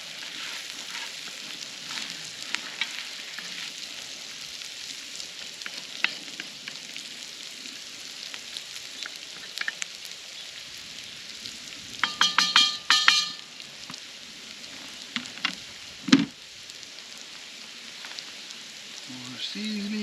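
Garlic fries over an open fire for pastalaya, giving a soft, continuous sizzle with scattered crackles and light clinks of stirring.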